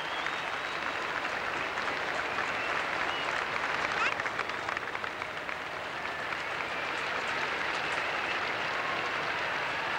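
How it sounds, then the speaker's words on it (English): A large crowd applauds and cheers steadily as the Queen arrives at a Calgary Highlanders ceremony. The dense wall of clapping and cheering holds at an even, loud level from start to finish. "Some people are getting to their feet, cheering for the Queen."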